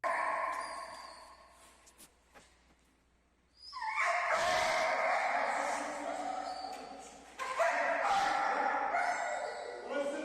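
A dog that has fallen into an empty indoor pool in a sports centre building under construction barks and whimpers in loud, echoing bursts after a quieter opening, with some voices mixed in.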